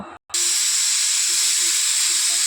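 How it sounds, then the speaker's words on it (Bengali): A pressure cooker whistling while chicken soup cooks, a brief cutoff followed by a loud, steady high-pitched hiss of escaping steam with a low pulsing tone beneath it. "একটা সিটি আমার পড়ে গেছে, আমি আরেকটা সিটি পড়া পর্যন্ত অপেক্ষা করছি।"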